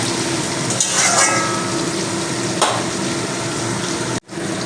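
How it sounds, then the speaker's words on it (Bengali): Vegetables stir-fried with salt for chicken chowmein make a steady, loud sizzle, with occasional scraping stir strokes and a brief cut-off near the end. "নুনগুলো দিয়ে ভালো করে সবজিগুলোর সঙ্গে মিশিয়ে দেব এইভাবে নাড়াচাড়া করতে করতে নুনগুলো সব মিশে যাবে সব জায়গায়"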